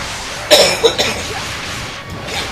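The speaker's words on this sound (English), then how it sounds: "Still got a little bit of the cough left over." One close, sharp cough followed by a couple of smaller throat bursts, then quiet rustling.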